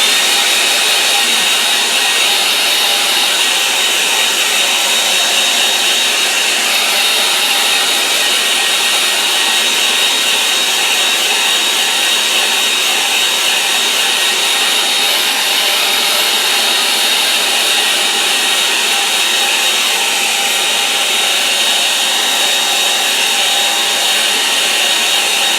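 A hair dryer blows steadily and loudly up close over a one-colour watercolour tone study, a continuous whooshing whir lasting the whole stretch with no breaks and no voices.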